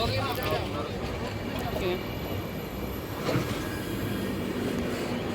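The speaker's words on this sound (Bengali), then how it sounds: "ট্রেন চলে এসেছে আমাদের" A train rumbles and clatters nearby with faint metallic squeals, steady and fairly loud, while people talk in the background.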